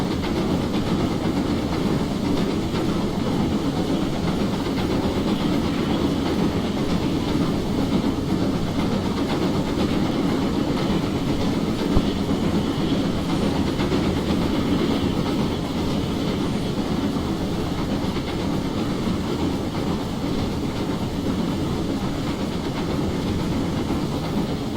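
A GWR Castle steam locomotive running under power on the West Highland Line South in Train Simulator 2016, a steady, loud rumbling drone of engine and rolling wheels with faint rhythmic clatter, continuous for the whole stretch.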